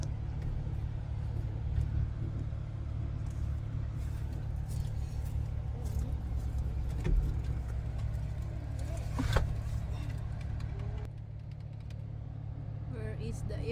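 A truck on a test drive gives a constant low engine rumble and road noise from inside the cab, with people talking quietly over it.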